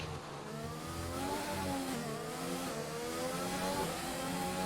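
Formula 1 cars race wheel-to-wheel in a racing video game at Monaco, with a Racing Point and a Haas close together; layered high-pitched engine whines rise and fall steadily as the cars accelerate, moderately loud and continuous.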